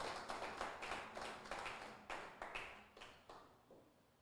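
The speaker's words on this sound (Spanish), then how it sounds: "Dale un aplauso al Señor en este momento." Congregation clapping during a church service, a fairly faint, loosely rhythmic series of claps at a steady pace of roughly three per second, tapering off over a few seconds with no talk.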